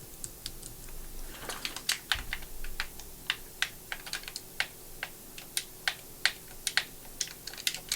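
Quick, uneven clicking of arrow keys being pressed on a computer keyboard while playing the Star Dragon game: a steady run of sharp, close taps, some in fast pairs, with no voices.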